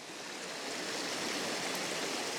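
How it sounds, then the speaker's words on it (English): A flooded farm creek rushes in a steady, even wash of flowing water, constant and moderately close, with no voices. "Look at all that flood. This is the creek."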